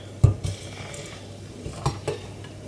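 Chopped coriander, spring onion and tomatoes stirred together in a pan, with a few clinking knocks of a utensil against the metal and a soft background sizzle, close and moderate.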